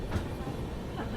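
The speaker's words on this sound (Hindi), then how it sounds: "अपनी ट्रेन पहुंच रही है रामगंज मंडी रेलवे स्टेशन" A train rumbles steadily into Ramganj Mandi railway station, a dense low roar with faint clatter and no distinct pauses.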